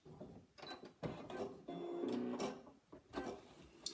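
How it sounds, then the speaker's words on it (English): A sewing machine runs in short bursts while stitching the top edge of a fabric pot, a close whirring mechanical chatter that starts and stops several times. "You're then going to machine that top edge."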